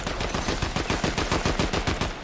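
Rapid bursts of video game gunfire crackle in a dense, steady stream of shots for a couple of seconds, loud and close with no talking over it.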